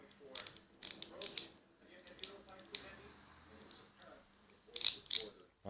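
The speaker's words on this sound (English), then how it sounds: "There's a ratchet driver." A small ratchet driver from a compact everyday-carry tool kit clicks in short bursts of sharp ratcheting ticks, close up, with pauses and some faint handling between turns and no talk over it.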